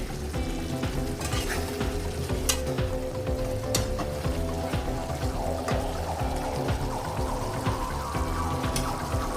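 Pointed gourd simmers in mustard paste in a pan over a medium flame, giving a steady, close sizzle and bubbling throughout with occasional light stirring, and no voices.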